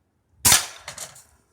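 A single sharp crack of an air rifle firing a BB-tip .22 Hornet pellet at a can about 10 yards away, followed by a quick metallic smack as it strikes, then fading rattle.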